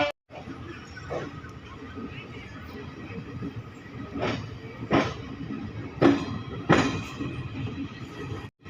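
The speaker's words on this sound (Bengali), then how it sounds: "আমাদের ট্রেন এখন ছুটে চলেছে" A train from Malda to Jogbani rumbles steadily along, with a constant low roar broken by several sharp metallic squeals and clanks.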